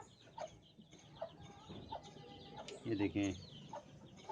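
Chickens cluck softly at close range in a small enclosure with chicks, with short clucks and one louder squawking call near the end while someone talks over them.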